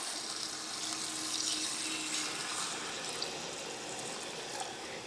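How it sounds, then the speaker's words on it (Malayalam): Water poured into a pot of Kerala-style mutton curry makes a dense, continuous rushing hiss that merges with the sizzle of the hot masala, steady and close for several seconds with no voices. "ഇനി ഇതിലേക്ക് നമുക്ക് മട്ടൻ വേവാൻ ആവശ്യത്തിന് വെള്ളം ചേർക്കാം."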